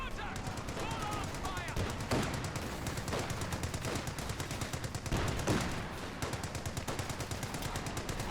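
Rapid machine gun bursts rattle through a Company of Heroes 2 battle, repeated volleys of sharp shots with brief gaps and a few heavier impacts, under a commentator talking throughout.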